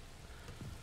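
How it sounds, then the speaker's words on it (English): Rain falling at night in modded Minecraft 1.10, a soft continuous hiss with a faint low rumble, brief and quiet with no talk. "where it is currently raining and it's dark"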